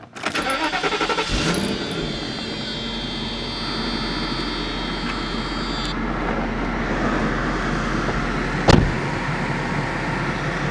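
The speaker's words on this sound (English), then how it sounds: "Just to start it up, just to check the gauges and stuff." A 1995 Mercedes SL500 with a replaced engine cranks and fires at the start, then settles into a steady, fairly loud idle. There is a short sharp knock near the end, and no one speaks.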